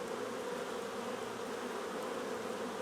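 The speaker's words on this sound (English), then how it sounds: "The bees can still get in and out." Honeybees buzz around a hive during a nucleus transfer to a hive body, forming a steady, dense, close hum that runs unbroken throughout with no talk.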